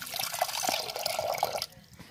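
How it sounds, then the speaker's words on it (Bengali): Water pours steadily into a kadai on the stove for boiling dal, a continuous splashing stream lasting under two seconds before cutting off. "ডালটা সেদ্ধ করে নেবো সেই জন্য কড়াইটা চাপিয়ে দিলে আমরা পানি দিচ্ছি"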